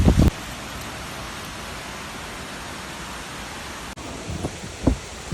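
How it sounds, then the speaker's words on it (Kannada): Typhoon Bebinca drives heavy rain and wind against balcony glass, a steady dense hiss of beating drops with sharp gusty thumps at the start and near the end. "ತುಂಬಾ ಮಳೆ ಹನಿ ಫೋರ್ಸು ತುಂಬ ಗಾಳಿ ಬರ್ತಕ್ಕೆ ಗ್ಲಾಸ್ಗೆಲ್ಲ ಹೊಡಿತಾ ಇತ್ತು"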